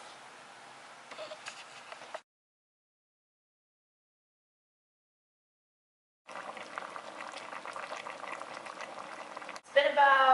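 Chicken adobo simmering in a covered pot bubbles steadily up close. The sound drops out to silence for several seconds, then the bubbling returns, with a brief louder burst and a voice at the very end.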